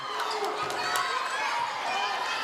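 Madison Southern fans at a women's basketball game against Berea cheering on their feet, a steady roar of crowd noise that fills the space, with a commentator talking over it.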